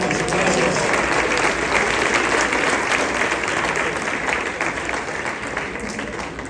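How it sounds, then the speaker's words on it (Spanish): A large audience at a conference talk in Panama gives a loud, sustained round of applause for three helpers, dense clapping that fills several seconds and fades slightly toward the end, with no speech over it. "Denle un aplauso a mis tres ayudantes."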